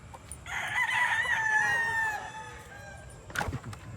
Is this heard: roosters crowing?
yes